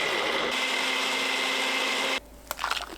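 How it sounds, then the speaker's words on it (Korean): A blender grinds apple, pear, anchovy fish sauce and plum syrup, whirring steadily and loudly for about two seconds, then cuts off, followed by a few faint clatters. "믹서에 사과, 배, 멸치 액젓 5큰술, 매실청 3큰술 넣고 곱게 갈아주세요."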